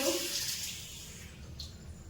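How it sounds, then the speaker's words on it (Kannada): Water poured into a pot on a gas stove for making ragi mudde, a soft rushing stream that starts stronger and fades to a faint trickle, with a brief splash near the end. "ನೀರನ್ನು ಹಾಕಿ"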